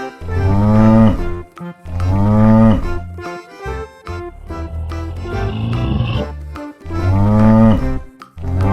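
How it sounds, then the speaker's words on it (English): A toy bull plays recorded mooing, three long loud lowing calls with shorter grunting sounds between them, close and clear with no talking. "Ooh, this is a bull."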